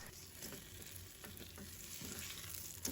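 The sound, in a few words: stir-frying pumpkin strips in a wok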